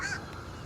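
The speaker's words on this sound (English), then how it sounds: "The fish crow and the American crow can be identified by their calls, as you can see in this video here." A fish crow gives a single short nasal caw, brief and moderately faint, fading into quiet background noise.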